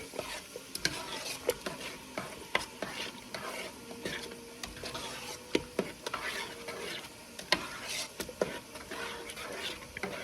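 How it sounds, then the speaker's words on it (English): Saag gosht of spinach and lamb is stirred in a pot with a quiet simmering sizzle underneath and a steady series of soft utensil clacks and scrapes. "now let's see what happens when I stir it up"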